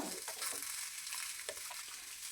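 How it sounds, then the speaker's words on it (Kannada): Onion and garlic frying in a pan give off a soft, steady sizzle, faint and continuous, with a few light clinks of stirring and no talk. "ಇಲ್ಲಿ ಈರುಳ್ಳಿ ಬೆಳ್ಳುಳ್ಳಿನ ಚೆನ್ನಾಗಿ ಹುರ್ಕೋತಾ ಇದ್ದೀನಿ."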